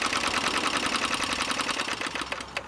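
A 1/10th scale Markie live steam crane lowers its load, giving a rapid, steady mechanical chuffing and clatter of the small engine and gearing, close and continuous with a slight slowing near the end.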